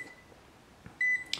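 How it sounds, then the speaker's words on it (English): A Fieldpiece Essential true-RMS clamp meter gives a short, steady electronic beep over a faint background hum, ending with a quick click and chirp. "it gives you a flashing light and a beep in case if there's electricity"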